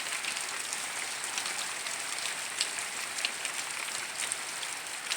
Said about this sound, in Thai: ฝนเริ่มซาแล้วค่ะพี่น้อง